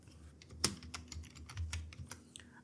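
Typing a name on a computer keyboard in Excel: a short burst of close, crisp key clicks with one sharper keystroke near the start, steady and alone with no talk.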